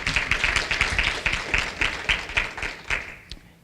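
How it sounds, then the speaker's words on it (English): A small audience applauds a donor at a charity presentation, with loose, fairly sparse clapping in an uneven rhythm that thins out and stops near the end. "Give him a round of applause."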